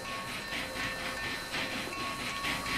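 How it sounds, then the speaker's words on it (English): A Big Boy steam locomotive, the Urban Games 4884, runs in Transport Fever 2, giving loud, steady hissing steam with a rhythmic pulsing chuff roughly every half second. It plays alone, with no voices. "That is a very loud train."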